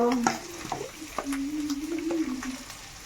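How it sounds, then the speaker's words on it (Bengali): Steady sizzle of an egg frying in a pan, with a low tonal hum running over it and a few soft clicks. "ওইদিকে আমার ডিমটা ভাজা হচ্ছে"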